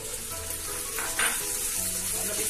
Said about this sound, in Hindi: प्याज जो है ये लाइट ब्राउन हो गई है, तो अब इसमें सबसे पहले ये टमाटर हम ऐड कर देंगे